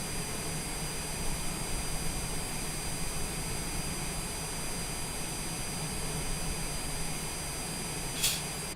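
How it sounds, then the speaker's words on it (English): A Citation Longitude jet engine spools up in a flight simulator game, a steady whining roar with a constant broadband hiss held evenly throughout. "sounds like a good start on engine numero un"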